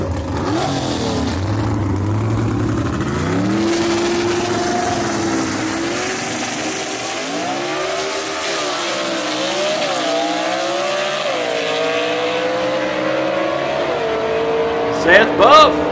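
Gasser drag race cars, including a Ford Falcon, race at Union Dragway, their engines roaring hard with rising, shifting revs close by throughout, while an announcer talks over the noise.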